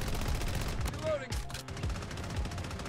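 Rapid bursts of automatic gunfire in the Bloodstrike shooter game while firing an MP5 submachine gun, loud and continuous with a brief lull mid-clip and faint player voices in the mix.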